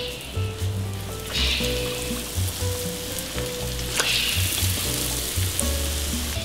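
San Miguel beer-battered chicken deep frying in a fryer at 175 degrees gives a steady, dense sizzle and crackle with brief bursts of louder spitting, continuous and close, without speech.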